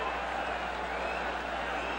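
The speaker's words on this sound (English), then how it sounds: "Crowd is very excited" A steady, dense roar from an excited crowd at the Mike Tyson vs Jesse Ferguson heavyweight boxing match, a continuous wash of massed voices at an even level throughout.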